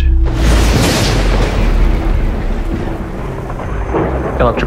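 Thunder from an electrical storm on Icarus, a loud, sustained rumbling roar that swells early and rolls on for several seconds, with deep low-end energy and crackling texture throughout.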